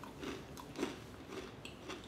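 Crunchy keto cheese crisps being bitten and chewed up close, a handful of sharp brittle crunches in quick succession, quiet and without talk.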